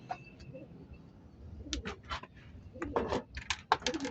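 A racing pigeon coos softly up close during a release in San Simon, Pampanga. Low murmuring coos are followed by several short rustling taps, and the setting is otherwise quiet.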